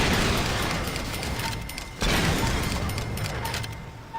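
Cars exploding in the Saints Row 2 video game, a rumbling blast followed by a second sharp boom midway, with crackling debris and a fading roar.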